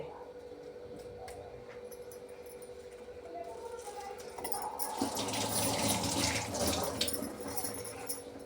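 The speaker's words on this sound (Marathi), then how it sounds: "मी हा गवती चहा पहिले धुवून घेते मग टाकते" Freshly picked lemongrass is washed under a running kitchen tap, the water starting quietly and then swelling into a louder steady splash and gurgle as the stalks are rinsed, close by.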